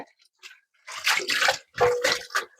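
Vegetables washed by hand in a bowl of water: several close bursts of splashing and sloshing, grouped into two main rounds, with no talking.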